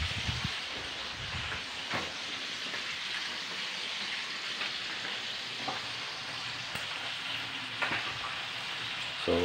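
Onions fry in a pan for a home-cooked Filipino dish, giving a steady, dense sizzle that stays even throughout, close to the mic, with a few faint clinks and no talking.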